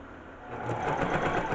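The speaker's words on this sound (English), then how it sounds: "Like all sewing machines, you press on it with your foot to power it up" Sewing machine stitching fabric for a plush toy dog, a quiet, steady mechanical whir that speeds up after a soft start, close by with no voices.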